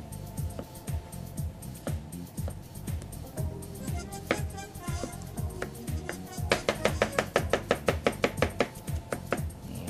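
A knife chopping watermelon and tomato on a board, steady close knocks that quicken into a rapid, louder burst of evenly spaced strikes near the end.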